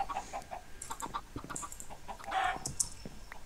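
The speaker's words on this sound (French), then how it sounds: "pourquoi il y a les poulets qui se barrent?" Several video game chickens cluck in short, scattered bursts against a faint background hum, with a brief louder squawk near the end.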